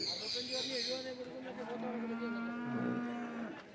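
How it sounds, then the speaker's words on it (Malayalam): A large water buffalo at a cattle market moos in a long, low drawn-out call, fairly close, with people talking in the background. "ഇവിടെ നിൽക്കൊണ്ടൊരു വലിയ പോത്ത്"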